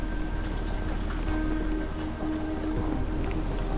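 Steady rain in the video game Sherlock Holmes: The Awakened patters softly and evenly throughout, a continuous quiet hiss with no voices.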